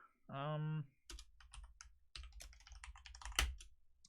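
Fast typing on a computer keyboard while setting up a Discord server: a brief hummed vocal sound, then a run of close, crisp key clicks with one louder tap near the end.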